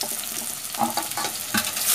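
Tomatoes and curry leaves sautéing in a pan for a bottle gourd masala gravy, a continuous hissing sizzle that rises toward the end, with soft stirring scrapes close by.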